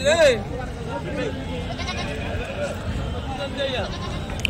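Goats bleating at a busy sheep and goat market, one loud nearby bleat at the start and fainter calls after, under steady crowd chatter and talking.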